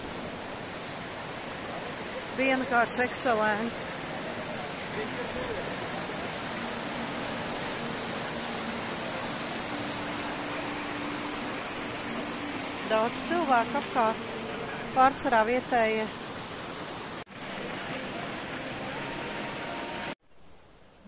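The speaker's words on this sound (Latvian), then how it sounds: "Mēs esam nonākuši brīnišķīgā vietā, waterfall, secret waterfall." A secret waterfall in the Rishikesh mountains sends up a constant, even rush of falling water that fills the scene, while someone talks briefly over it twice.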